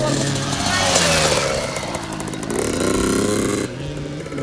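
A motorcycle engine revs steadily at close range, its buzzing note rising and falling, while a voice talks over it.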